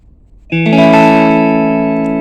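A single clean electric guitar chord through a small JOYO DC15 amplifier rings out after a short quiet moment, sustained and bright with a slight shimmer, fading slowly.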